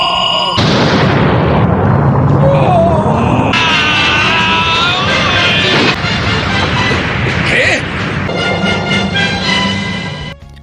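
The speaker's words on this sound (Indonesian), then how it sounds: "ledakan tadi berlangsung sangat dahsyat sampai dampaknya membuat sebuah lubang hitam yang cukup besar" A huge cartoon explosion as Goku self-destructs against Super 17: a sustained, roaring blast of dense rumble and hiss that stays loud throughout, layered with rising energy whines and a dramatic music score.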